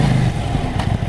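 A KTM Duke 790 motorcycle engine pulls hard under acceleration, a loud, close, steady engine roar that fills the whole brief moment without any speech.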